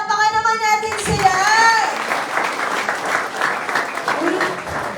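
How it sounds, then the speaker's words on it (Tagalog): Audience applause at a seminar on a marketing plan, with a burst of voices at the start before steady clapping from a large crowd fills the rest of the moment. "palakpakan naman natin sila"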